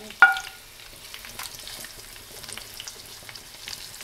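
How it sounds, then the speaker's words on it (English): Onions fry in oil in a soft, low sizzle that follows a brief clink at the start, staying faint and steady throughout. "Little fried onions."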